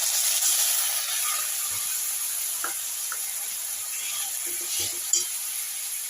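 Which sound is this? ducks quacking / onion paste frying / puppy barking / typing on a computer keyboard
onion paste frying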